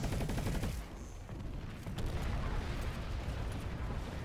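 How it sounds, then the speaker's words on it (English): Rocket launcher fire during a Planetside 2 battle, a burst of booming blasts and rumbling gunfire noise that dips briefly and then returns as continuous loud combat din. "Seriously? Use a rocket launcher at me?"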